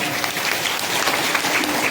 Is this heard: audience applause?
yes